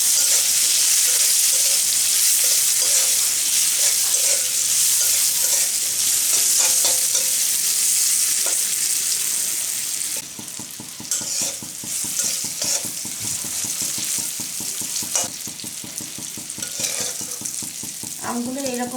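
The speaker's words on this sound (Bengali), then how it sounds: "এখন আমি আমগুলো খুব ভালো করে ভেজে নেব।" Green mango pieces salted and dusted with turmeric fry in a pan, a loud continuous sizzle at first, then quieter frying broken by repeated scraping and clinking of a spatula as they are stirred.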